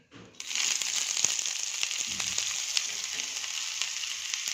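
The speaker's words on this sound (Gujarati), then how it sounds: "આપણું ઘી ગરમ થાય એટલે સૌપ્રથમ તો આપણે એમાં લસણ એડ કરી દઈશું" Garlic dropping into hot ghee, a sudden sharp sizzle that then holds as a steady bright hiss with faint crackles and occasional stirring taps, close by and without speech.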